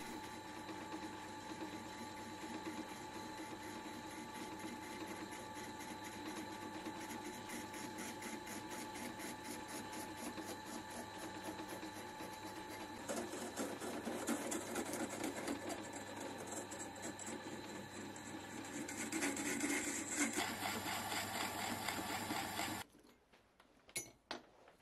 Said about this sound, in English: The piece was then turned down on the lathe in order to fit the windway machine.